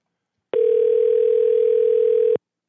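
A steady telephone dial tone drones alone after a call is hung up, loud and unbroken for about two seconds before cutting off.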